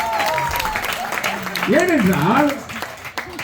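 An audience at a Tamil Christian debate event claps as a steady patter of applause, heard under someone speaking loudly.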